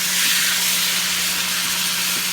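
Flipped pork chops sizzle hard in a hot pan, a loud, continuous frying hiss with steady crackle and a faint low hum beneath, no talk.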